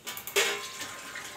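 A small amount of water splashes in a brief pour into a garlic and dried coriander mixture in a home kitchen, a short burst followed by a fading trickle.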